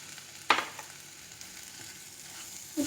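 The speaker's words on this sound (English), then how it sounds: "Let's fry for a few seconds and this time we'll add little salt" Tomatoes fry in a pan over a low flame with a faint, steady sizzle, marked by a sharp clink near the start and a brief scrape near the end.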